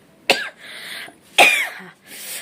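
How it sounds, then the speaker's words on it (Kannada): Two sharp, close coughs about a second apart, each trailing off into a short raspy breath. "ಕೆಮ್ಮು ಸ್ಟಾರ್ಟ್ ಆಗೈತೆ ಕೇಕ್ ತಿಂದಾಗಿಂದ"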